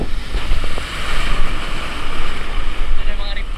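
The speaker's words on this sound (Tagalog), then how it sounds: "Ito na yung mga riptide, lalakas na ng alon." Ocean waves and strong surf with riptides along a La Union beach, heard as a steady broadband wash of breaking water and wind noise on the microphone, loud and continuous throughout.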